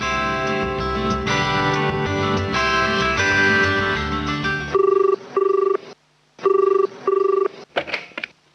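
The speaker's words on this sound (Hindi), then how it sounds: "सिद्धार्थ, आपका फोन" After a stretch of music, a telephone rings in short paired bursts, loud and close, with pauses between them.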